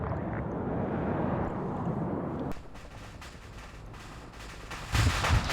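A bomb goes off in a Vietnam War video game: a dense, roaring blast rumbles for a couple of seconds, then cuts to a thinner crackle of distant gunfire with a heavier thud near the end.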